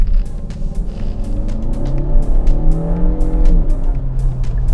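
A Kia Cerato5 1.6T GT turbo hatchback in Sport mode accelerates hard, its engine rumble rising steadily in pitch through the gear, loud and close from inside the cabin with no talking.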